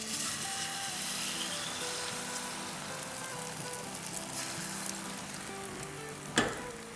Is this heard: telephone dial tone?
no